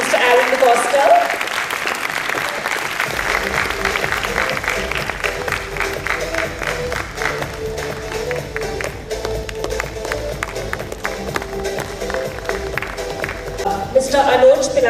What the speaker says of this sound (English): Come on, you can clap louder for Mr. Aaron DeCosta.